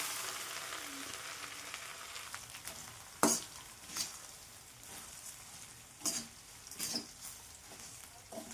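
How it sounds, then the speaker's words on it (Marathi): Puffed rice frying in a pan with coriander for chivda, a quiet even hiss throughout, broken by a few sharp scraping and clinking stirs, the loudest one about a third of the way in. "मुरमुरे आहे तेही फ्राय करणार दोन मिनटासाठी"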